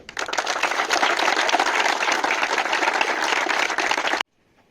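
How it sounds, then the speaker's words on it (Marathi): A crowd at an academy results celebration applauding loudly, dense steady clapping for about four seconds before cutting off abruptly into near silence. "जोरदार टाळी बजाओ"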